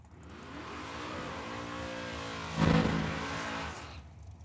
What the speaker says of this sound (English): He just did a good burnout over here in a Monte Carlo color on the left hand side.